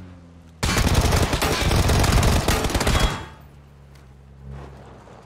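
A Vector submachine gun in PUBG on the Erangel map fires one loud, unbroken burst of rapid shots lasting about two and a half seconds, followed by quieter game ambience.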